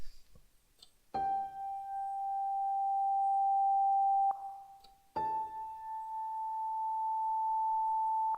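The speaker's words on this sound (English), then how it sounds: "I want to use this one here, the guitar feedback, which is actually more of a sound effect." A guitar feedback sound effect from a sample library: two long, steady, pure-sounding feedback tones, each swelling in abruptly, holding for several seconds and cutting off, with a short break between them.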